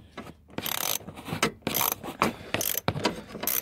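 A ratchet loosens the seat bolts on a Ford Transit Connect, giving repeated close, loud bursts of clicking pawl strokes separated by short pauses.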